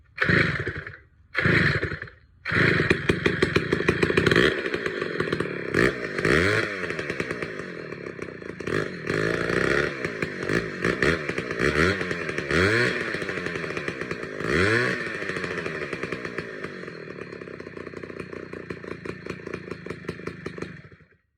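An old Peerless 950 chainsaw engine sputters briefly, then catches and runs loud and close with a buzzing two-stroke drone, revving up and down before idling unevenly.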